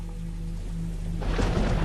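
Steady rain hisses in a Hindi cartoon, then swells suddenly into a heavier downpour with a rushing, spattering sound partway through.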